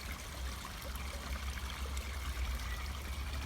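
Water trickles steadily from a garden pond fitted with a pump and a pressurised UV external filter, a continuous splashing flow over a low, constant hum, with no breaks.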